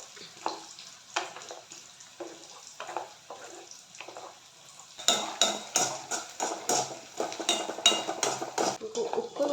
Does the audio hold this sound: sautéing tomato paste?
yes